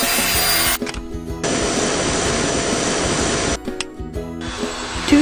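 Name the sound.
Jimmy cordless stick vacuum cleaner running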